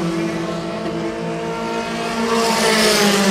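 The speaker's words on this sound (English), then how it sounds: "Drivers are coming around on that last lap" Formula 4 race cars of the South East Asia Championship on the final lap, engines screaming in a sustained high-revving drone that swells louder toward the end as cars pass close by.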